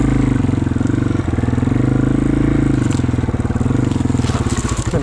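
Yamaha TW200 motorcycle engine chugging steadily in first gear while riding through trees, a loud, close, continuous low thrum with rhythmic pulsing and occasional clatter, no talk.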